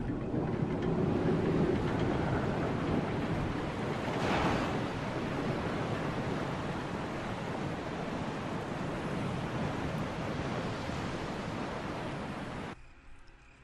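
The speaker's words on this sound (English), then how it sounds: "You can hear the sound of a waterfall in the distance." A distant waterfall in the Resident Evil Remake video game, a steady broadband rush that holds evenly for about thirteen seconds before cutting off abruptly, with no voices over it.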